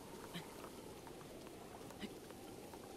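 Rain in The Legend of Zelda: Breath of the Wild falls as a soft, steady patter with occasional brief taps, quiet and even throughout.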